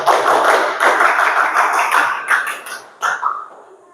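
A class of students claps the Pramuka scout clap together, fast rhythmic bursts of many hands, loud and close, with a few sharp accented claps near the end.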